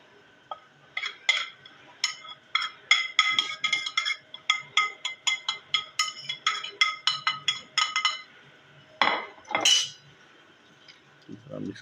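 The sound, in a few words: mixing spices into chapli kabab mixture in a bowl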